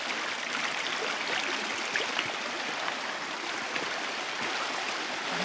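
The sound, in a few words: waterfall flowing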